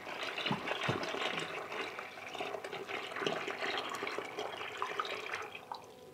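Water pours and splashes into a Rovin Ecospin portable washing machine, filling it for a rinse cycle, a steady close running-water sound with faint drips and knocks.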